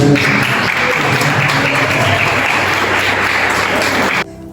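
A church congregation applauds in praise of God, a dense, loud, continuous wash of many hands clapping together that carries on steadily and then stops abruptly near the end.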